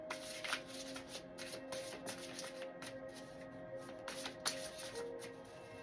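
Tarot cards riffled and shuffled close by in quick, repeated bursts of soft flapping and slapping, fairly quiet, with faint tones in the background.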